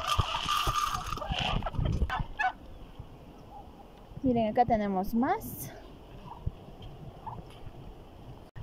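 Turkeys gobble in a rapid rattling burst on a farm where ducks and chickens also roam, loud and near, with a person talking briefly beforehand and quieter fowl calls around.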